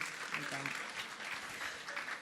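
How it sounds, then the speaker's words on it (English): An audience at a morning business networking event claps for a speaker giving closing statements: a brief, fairly quiet patter of applause with scattered voices and chatter underneath. "Round of applause."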